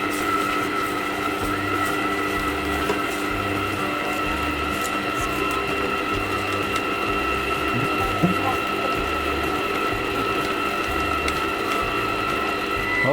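A mixer machine churns glutinous rice dough with a continuous mechanical hum and a steady, repetitive grinding pulse, close and unbroken throughout, with no talking.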